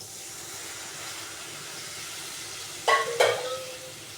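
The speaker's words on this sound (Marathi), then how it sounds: "आपला मसाला तेल सोडायला लागला आता आपण टाकू पाणी याच्यामध्ये" Water poured into hot masala frying in oil for a Khandeshi shev rassa curry lets out two short, loud sizzling bursts about a third of a second apart, over a faint steady background of stirring and cooking.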